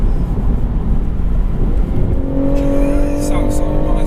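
A BMW M140i Shadow Edition roars under hard acceleration, loud and close with a rising engine note climbing in pitch over the final seconds, heard from inside the car with excited voices.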